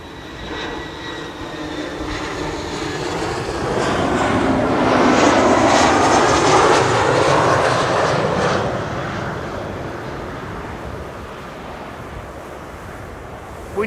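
An EasyJet jet airliner arriving from Pula roars past on approach to Schiphol's Kaagbaan runway, a broad engine rumble that swells to a peak midway and then fades to a steady outdoor hum.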